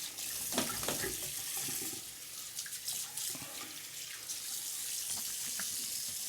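Tap water runs steadily into a bathroom sink for rinsing a face after a safety razor shave, a continuous close hiss with small splashy variations throughout.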